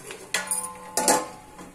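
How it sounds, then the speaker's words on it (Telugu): A metal lid goes onto a pan of egg masala curry with two close, ringing clanks about half a second apart, each fading quickly. "మూత పెట్టుకుంటున్నాను"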